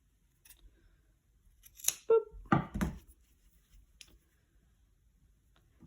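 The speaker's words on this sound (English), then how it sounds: "I'm going to kind of shimmy in there and cut off just the ends" A few quiet, crisp scissor snips trimming thread ends on a yarn pom-pom for earrings, close up against near silence.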